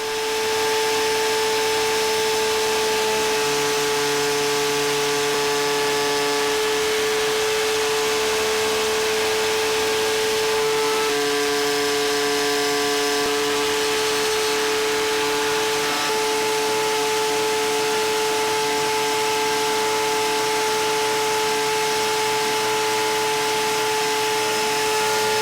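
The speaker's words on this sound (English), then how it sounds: "I use the router table and stop blocks to cut the grooves to fit these" A router table cuts grooves for solid brass side rail hinges, with a loud, constant high-pitched motor whine and steady tone that holds unbroken and close throughout, only slight shifts as the cut changes, no talking.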